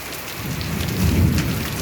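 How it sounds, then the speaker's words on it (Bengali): Heavy rain pounding down during a storm with hail, a dense steady roar of drops with a low rumble of thunder swelling midway. "এই দেখুন গর্জনে হচ্ছে মেঘ ঘুরতেছে বৃষ্টি হচ্ছে"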